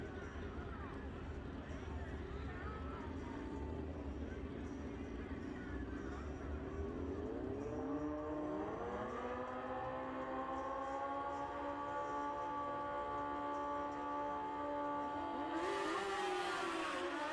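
A 2011 Kawasaki ZX10 drag racing motorcycle makes its run at a drag strip, its engine note climbing in steady harmonic sweeps under a constant crowd and track din, with a sharp rising rev near the end.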